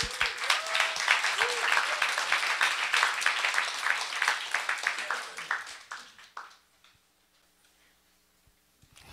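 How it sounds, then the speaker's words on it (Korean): Rhythmic, fairly close applause from a Friday church worship congregation, strong clapping that fades away after about six seconds into near silence. "우리 박수로 격려합니다"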